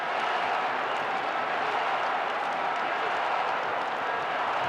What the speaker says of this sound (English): You can hear how desperate the crowd are for something to cheer.